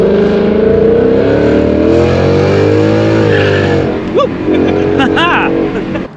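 A third-generation Ford Mustang roars steadily at high revs as it accelerates from 0 to 60, loud and close from inside the car, with voices speaking over the engine near the end.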